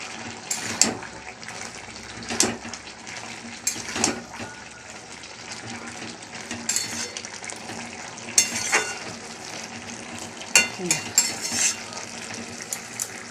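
Pieces of pabda fish sizzling and frying in a pan of hot oil for a mustard curry, with a steady close crackle, occasional stirring and clattering pan knocks, and no talk.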